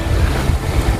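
Strong wind blowing outdoors in a garden in the Netherlands, a loud, continuous rushing roar buffeting the microphone close up with no voices.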